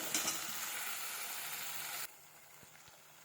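Onion and masala frying in hot oil for an egg curry, a close, steady sizzle that cuts off abruptly partway through, leaving a few faint clicks with no voices.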